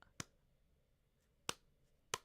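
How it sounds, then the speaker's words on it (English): Three sharp, isolated hand claps or snaps close by in a quiet room, irregularly spaced, with no talking between them. "How's my hand clapping?"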